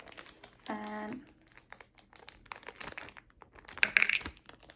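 Medication blister packaging being cut and handled, with crinkly plastic rustles and small clicks throughout, a longer crackle near the start and a sharper crinkle burst near the end, close up, with a brief spoken word.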